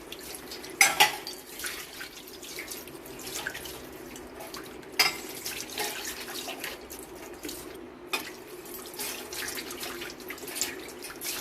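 Running tap water splashes steadily while brass pooja vessels are washed, with occasional sharp metallic clinks and knocks of the pots against each other and the sink.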